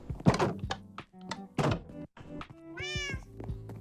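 Minecraft cat meows among blocky game thuds and knocks during play, several short sharp thunks followed by a clear rising-falling meow, close and loud.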